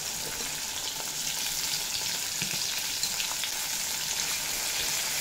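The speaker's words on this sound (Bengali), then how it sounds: "পেঁয়াজ খুব ভালোভাবে ভেজে নেব" Chopped onions fry in hot oil with whole garam masala and bay leaves for a Bengali mutton and potato curry, giving a steady, close hiss and crackle that runs on evenly with no talk.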